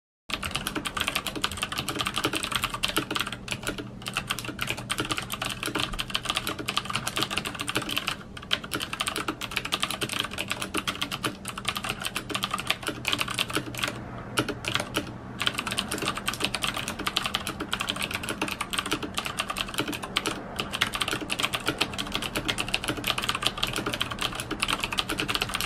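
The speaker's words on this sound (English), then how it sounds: "here's what the keyboard sounds like." Steady, continuous typing on a Das Keyboard Model S with clicky Cherry MX Blue mechanical switches, a dense stream of close, crisp keystrokes running uninterrupted with no talking.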